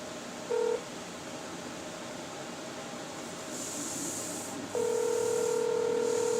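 Telephone dialing tones at the start of a phone call: a brief beep, then after a pause a sustained steady tone, over a constant background hiss.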